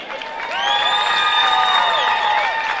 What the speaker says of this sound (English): please give a round of applause to this year's Class 4A Division I champions